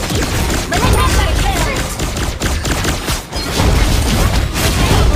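Rapid shooting attacks from the hero Wanwan in the Mobile Legends mobile game, a dense, loud barrage of clustered hits and impacts running the whole time over busy game effects, with a voice in the background.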